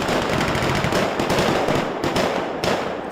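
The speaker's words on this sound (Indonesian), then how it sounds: "Suara senjata mesin dan mortir berdentuman di tengah udara membeku Ukraina" Dense machine gun and mortar fire crackles without a break during a live-fire Ukrainian military exercise in freezing air, loud and close, with a few sharper bursts standing out and no voices.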